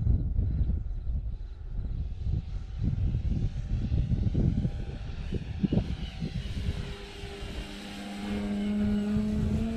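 A FLEX Innovations Cessna 170 RC model airplane flies nearby, its electric motor droning steadily with rising and falling whine as it passes, over outdoor breeze and handling noise, with no talking.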